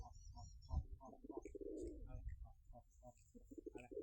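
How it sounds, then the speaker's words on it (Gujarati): Pigeons sitting inside a box coo softly, a close, quiet run of repeated throaty burbling calls with faint shuffling. "કબૂતર અંદર ડબ્બા બેઠા છે"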